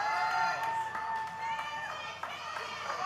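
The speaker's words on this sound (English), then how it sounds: "Listen to the crowd response for Sam Hardway Holloway." A live wrestling crowd reacts in an arena with a broad, sustained roar of cheering and shouting under a commentator's voice.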